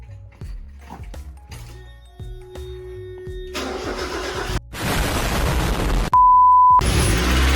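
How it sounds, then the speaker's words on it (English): A Mazda Miata engine cranks with a few clicks, then catches and roars to life loudly at close range, with a brief steady tone near the end. "First start after no change."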